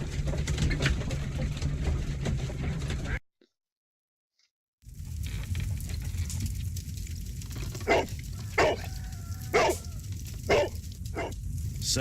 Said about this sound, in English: Go on, pet the dog.